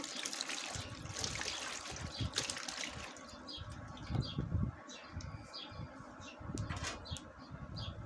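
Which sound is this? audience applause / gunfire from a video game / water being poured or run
water being poured or run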